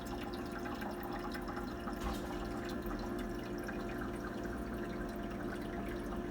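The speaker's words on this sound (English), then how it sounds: "It's filling up in the inside, the water." Water steadily fills the inside of an Igloo ice maker machine, with a continuous close trickle, faint drips and a low pump hum throughout.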